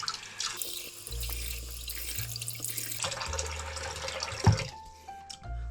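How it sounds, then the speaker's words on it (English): Cold water runs from a sink tap in steady bursts while a face is washed, close and moderate in volume, with splashes, drips and short pauses between flows, no talking. "when you're washing your face, you should use only cold water"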